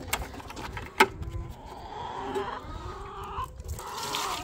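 Chickens cluck in a rural farmyard, with one sharp, loud call near the start and softer, scattered clucks and rustling that follow close by.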